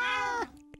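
A single long, drawn-out meow from a cat in a video game, loud and close with a harmonic tone that bends downward before cutting off, followed by a faint short blip.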